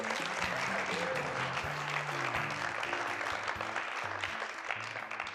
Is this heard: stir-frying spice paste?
no